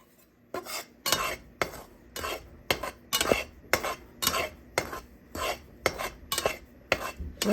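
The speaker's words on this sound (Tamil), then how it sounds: "சினி அரிசி மாவை வறுத்து கொண்டிருக்கிறேன்" A spoon scrapes and stirs millet rice flour as it roasts dry in a pan, in regular strokes about twice a second, close and fairly loud with no voices.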